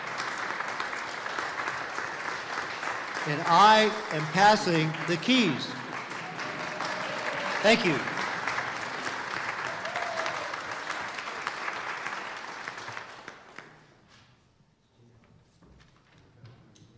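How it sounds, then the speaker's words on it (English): A church congregation at an annual parish meeting applauds steadily for several seconds while someone speaks briefly over it, then the clapping fades out into quiet room tone. "And let's give him a round of applause for volunteering to do this."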